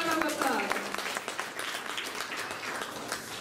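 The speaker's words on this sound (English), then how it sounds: "please give them a big round of applause" Audience applause at a school event, dense clapping from a crowd heard at moderate level, with some voices mixed in underneath.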